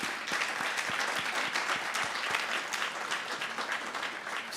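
A banquet audience at an alumni association awards event gives award winners a round of applause, dense steady clapping filling the room for the whole stretch.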